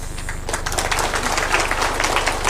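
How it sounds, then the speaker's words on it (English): Audience applause for Waziri at a national education conference in Naivasha, a dense, steady burst of clapping that swells in and carries on with little talk. "Please, another round of applause for Waziri."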